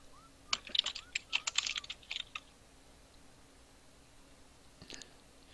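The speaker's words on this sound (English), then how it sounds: "Yeah, I type really loud." Loud, fast typing on a computer keyboard, a rapid burst of sharp clacking keystrokes for about two seconds, then quiet apart from one late faint tap.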